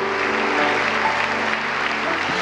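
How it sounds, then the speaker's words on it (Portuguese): A worship congregation bursts into strong applause, a thick continuous roar of many clapping hands with faint sustained tones beneath, holding steady from start to finish. "Mas aplauda mais forte."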